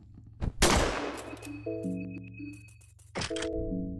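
A shotgun fires in Fear & Hunger Termina: sharp, loud blasts, one early and another near the end, separated by ringing tonal game chimes.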